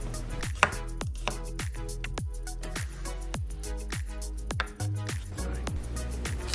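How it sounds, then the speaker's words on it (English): A knife finely chops two garlic cloves on a board with quick, even taps in a steady rhythm, about two strikes per second. A low tonal backing runs underneath. "now let's finely chop 2 garlic cloves"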